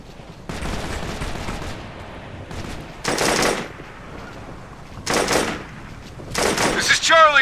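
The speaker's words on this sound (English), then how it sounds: "We're taking heavy fire here!" Bursts of automatic gunfire rattle in Operation Flashpoint: Red River, with several loud volleys separated by short pauses over a steady battlefield background.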